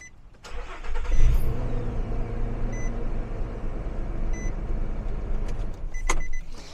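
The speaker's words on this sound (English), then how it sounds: "that was definitely fun starting the car with this battery" A car's starter cranks briefly on a LiTime 12.8 V 100 Ah LiFePO4 lithium battery before the engine catches and settles into a steady close idle, with faint electronic chimes.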